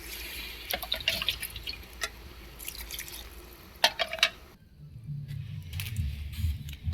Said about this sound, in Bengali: এখন দিলাম জল তো